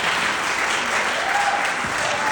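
Brief burst of audience clapping during a university conversation event, a steady, dense patter of many hands filling the room without pause.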